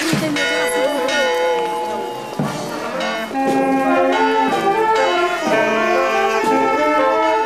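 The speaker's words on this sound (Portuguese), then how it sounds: "Olha, o sino já" A church bell rings in repeated resonant strikes, each stroke blooming into a rich, sustained tone that overlaps the next, loud and continuous throughout.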